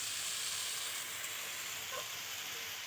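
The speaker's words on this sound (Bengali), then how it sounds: "দেখো কী সুন্দর করে কষাচ্ছে" Mixed vegetables sautéing in a pan for a vegetarian dish, a soft, continuous hiss of frying that stays low and steady throughout.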